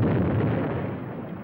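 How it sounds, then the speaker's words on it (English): A heavy explosion sound effect from a Western radio drama bursts loudly at once, then a dense rumbling roar slowly fades away, with no voices over it. "That explosion is bound to bring a lot of people out."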